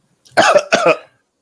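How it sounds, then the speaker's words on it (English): Two quick, harsh coughs close to the mic, the second slightly longer, then silence. "You trying to cough now."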